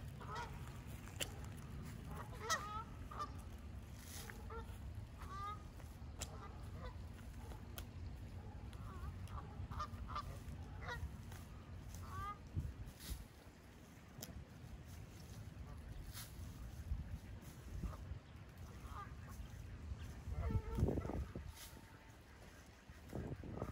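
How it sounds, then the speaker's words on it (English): A flock of wild geese honks outdoors while being fed, giving repeated scattered calls at moderate distance over a low steady rumble and faint background noise. "I'm gonna be out here feeding some geese."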